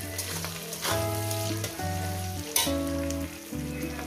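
Green chillies frying in a pan, for prawns cooked in yogurt, produce a constant close sizzle heard beneath a steady run of tonal background music, with one sharp stirring knock midway.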